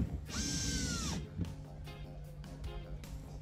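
Power drill whirring briefly as it drives long screws into the back panel of a Samsung refrigerator, a close rising and falling motor whine lasting under a second, followed by clicks and handling knocks.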